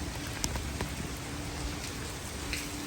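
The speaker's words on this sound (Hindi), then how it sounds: "बारिश बहुत ज़्यादा तेज़ जो है ना बारिश हो रही है इस वक्त" Heavy rain pours steadily and close by, a dense, even hiss of drops striking surfaces with a few sharper splashes, and no voices.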